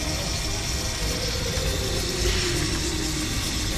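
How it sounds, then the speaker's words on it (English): An automatic fuel pump runs on a Mercedes-Benz L-series truck, a steady mechanical whir with faint regular ticking, close and continuous with no voices. "So because this one is automatic pumping, so now it is pumping."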